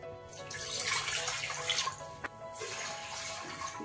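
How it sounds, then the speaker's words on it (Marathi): Water pours steadily into a pressure cooker set up for steaming dhokla, a close, bright splashing rush that runs the whole time. One sharp knock comes partway through. "अगोदर ना आपण पाणी उकळण्यासाठी ठेवू कुकर मध्ये"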